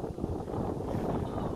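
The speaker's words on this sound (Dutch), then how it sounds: "De wind trekt ineens aan, moet je kijken." Wind during a thunderstorm roars steadily against the microphone, a dense, continuous rush with no clear lulls.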